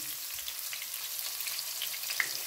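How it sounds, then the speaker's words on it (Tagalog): Onions sautéing in olive oil for Cypriot sautéed okra, a steady close sizzle and crackle with small pops throughout and no voices. "Igigisa natin yung onion guys."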